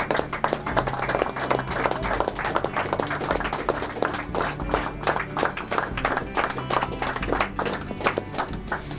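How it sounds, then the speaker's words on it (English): Audience at a public library talk clapping in unison on request, a run of sharp rhythmic claps about six times over a steady room hum, fairly close and loud with no one speaking. "Want to clap 6 times?"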